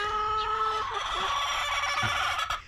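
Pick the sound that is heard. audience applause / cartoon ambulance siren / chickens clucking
chickens clucking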